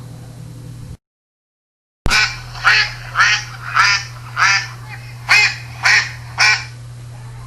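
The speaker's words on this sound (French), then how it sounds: "Des canards." Ducks quack in a steady series of about eight loud, raspy calls, evenly spaced over a constant low hum, after a brief silence at the start.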